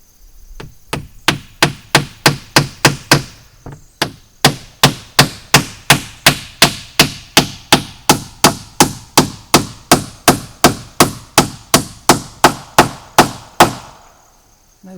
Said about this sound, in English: I have to get this big hammer here.